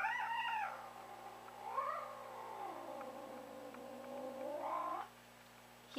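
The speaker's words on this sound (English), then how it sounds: "This cat is the most vocal cat I've ever met in my entire life." A very vocal house cat meows and yowls in long drawn-out, rising and falling cries, close and fairly loud, with a brief quieter pause near the end.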